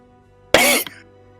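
A man coughing on his coffee gives one short, loud burst of cough, followed by a brief softer catch, then quiet.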